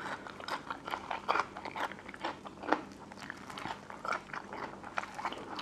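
Crisp, slightly bitter small Thai bitter gourd crunched while eating, eaten alongside spicy pounded sai tan with pickled garlic over rice noodles; steady close bites and chewing crunches repeat throughout, with no talk.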